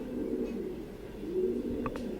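Egyptian pigeons cooing, a soft low repeated coo close by over a faint background hum, with a couple of brief sharper chirps near the end.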